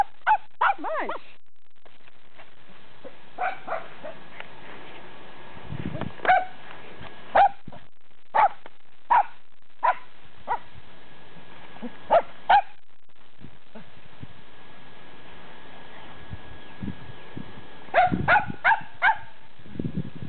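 A small Papillon dog at play gives sharp, high yips and barks in scattered bursts, with quick clusters near the start, middle and end, and soft whimpering between them, close to the microphone.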